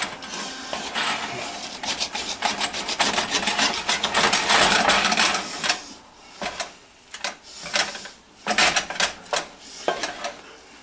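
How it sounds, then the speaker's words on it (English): A utensil scrapes cheesy potatoes off the surface of a pan in fast, repeated rasping strokes, dense and loud at first, then in short separated scrapes with small clinks, with no talking. "scrape everything off of the pan."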